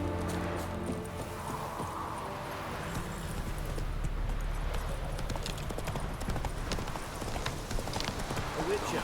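Roach, Geralt's horse in the video game The Witcher 3: Wild Hunt, gallops with a fast, rhythmic clip-clop of hooves, close and steady throughout, with a voice speaking briefly over it.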